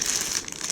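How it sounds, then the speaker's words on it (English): Crinkly plastic packaging from a Takara Tomy M.O.W. repair set toy train is pulled open, giving a steady, close rustle that lasts just under a second with no talking. "We open the bag."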